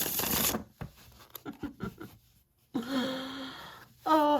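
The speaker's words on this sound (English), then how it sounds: "it's gonna shuffle like a dream" A Monsoon Tarot deck on thin cardstock is riffle-shuffled up close, with a hissing riffle, a flurry of quick card taps as it is squared, then another riffle.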